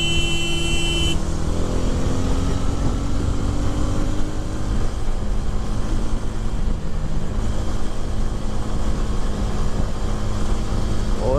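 A TVS Ronin motorcycle cruising in fourth gear at moderate speed, with a front tyre problem, gives a steady, continuous engine and road drone with wind noise, close and loud throughout.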